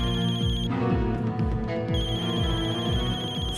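A mobile phone ringtone plays a repeating electronic melody, loud and close, looping without pause.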